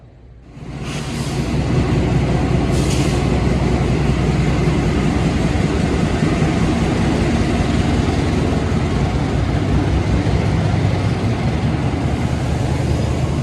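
A loud, steady diesel engine rumble with broadband roar from the locomotive of a Menoreh passenger train at night in Indonesia, rising quickly at the start and then holding constant, like an idling locomotive close by.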